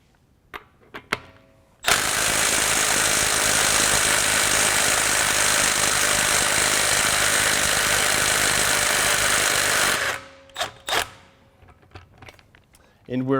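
A Milwaukee M12 FUEL right angle impact wrench with a deep well socket hammers steadily on a stubborn fastener for about eight seconds, loud and continuous, with quieter clicks and handling noise before and after.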